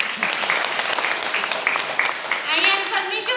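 Loud applause from an audience at a church prayer gathering, dense continuous clapping throughout with voices calling out near the end.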